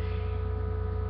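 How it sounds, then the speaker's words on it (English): Steady, even motor hum close by indoors, a low droning tone with faint regular pulsing that holds unchanged throughout. "Sorry about the loud noise with the motor and everything."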